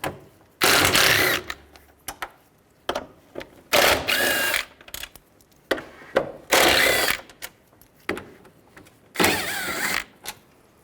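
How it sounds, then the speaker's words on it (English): Four bolts come out of a 1998–2010 Volkswagen Beetle front bumper cover with a power tool and T30 socket, giving about six short, loud whirring bursts with quiet gaps between. "We're going to take these 4 bolts out. Use a T30 socket."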